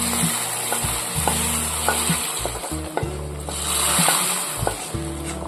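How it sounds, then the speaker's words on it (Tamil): Hot tempering is stirred into a pot of drumstick sambar, giving a close, steady sizzle and bubbling with scraping and clinks of a spoon against the pot. "தாளிப்பு சேர்த்து முருங்கைக்காய் சாம்பாரை நல்லா கலந்து விட்டுருவோம்"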